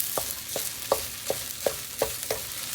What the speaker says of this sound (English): Let me switch over to my wooden spoon. Stir this up real well.